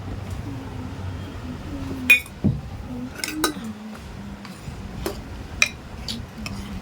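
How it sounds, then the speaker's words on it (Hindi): A few sharp metallic clinks of a ladle against a cooking pot, spaced out over a quiet kitchen background with faint low murmuring. "करछी को नीचे रख, नीचे रख करछी को"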